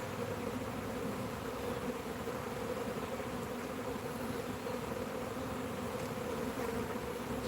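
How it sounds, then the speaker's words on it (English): Honey bees flying in a bee yard in northern Ohio on a spring day, a continuous soft hum of many wings droning evenly throughout with no talk, fairly faint and distant. "But we got a lot of bees flying."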